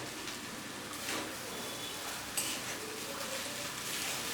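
Flattened rice (chira) breakfast is stirred in a hot pan, giving a soft steady sizzle with faint scraping and light clinks.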